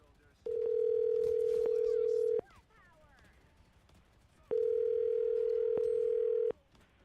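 A telephone dial tone sounds while a call is being placed: two loud, steady, unbroken tones, each about two seconds long, separated by a quiet gap of a few seconds.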